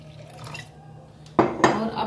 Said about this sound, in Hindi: अब मैं इसमें थोड़ा सा पानी ऐड कर रही हूँ